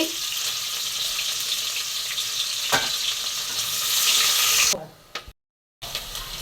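Steady, loud sizzling of sliced onions frying in a pan for egg biryani, cutting off abruptly near the end before resuming briefly.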